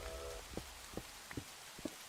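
Quiet, steady rain falls in a video game, with soft hiss and occasional isolated droplet taps against a faint low hum, and no one speaks.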